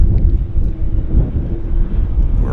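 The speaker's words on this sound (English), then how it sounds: "despite it's a bit windy here in Vancouver" Wind gusts buffet the microphone at Vancouver airport on a windy day, a steady low rumbling roar that continues without a break and with no voices.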